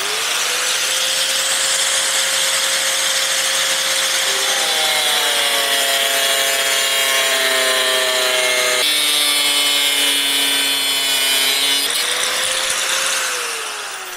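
Motorcycle pannier rack metal for a Honda CD200 Benly with Rickman panniers cut by a power tool, a loud continuous grinding whine whose pitch dips and shifts in steps as the blade bites, running alone for about fourteen seconds.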